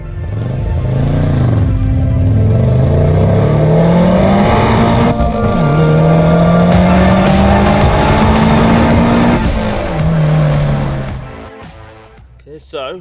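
A Subaru Legacy fitted with a single-turbo conversion, STI intercooler and exhaust manifold fires up close by, its engine rising and falling through several revs before dropping toward idle and cutting at the end.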